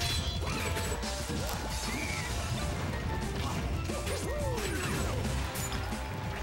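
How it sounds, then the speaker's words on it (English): Forward smash attack landing in a Smash Bros doubles match, a crashing hit sound within a dense, continuous wash of game effects and crowd noise; no clear isolated impact stands out. "Getting both of them off stage with one DD forward smash."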